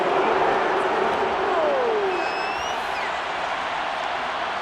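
In the Madden NFL 23 football video game, a stadium crowd reacts to a penalty flag on a Dallas third-down play with a loud, sustained roar of disapproval that fills the whole stretch, with no clear speech over it.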